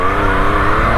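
A 2020 Yamaha MT-09 motorcycle accelerating hard, a loud, close, sustained engine drone as the traction control cuts in on a test ride.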